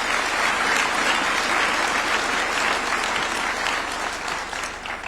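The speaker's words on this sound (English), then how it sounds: "A round of applause for the main speaker of this meeting." A live audience at a Kenyan meeting breaks into sustained, dense applause for the main speaker, steady and loud across the room before easing slightly at the end.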